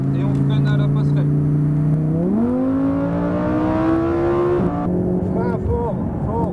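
A sports car engine on a race track revs up steadily, its pitch climbing as it accelerates, then shifts gear and keeps pulling, loud and close.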